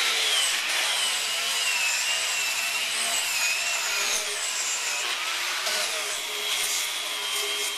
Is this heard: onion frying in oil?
no